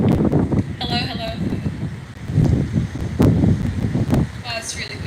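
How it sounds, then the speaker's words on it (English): Gusty wind buffets an outdoor microphone at a middle school graduation ceremony, a rough low rumble that surges and drops, heard under someone speaking. "Wow, it's really windy."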